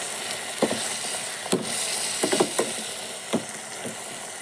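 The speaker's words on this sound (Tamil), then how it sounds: "இஞ்சி பூண்டு போட்டு சேர்த்து நல்லா வணக்கிக்கலாம்" Ginger and garlic sauté in a hot pan with oil, giving a steady close sizzle broken by occasional clicks and scrapes of a stirring spoon against the pan.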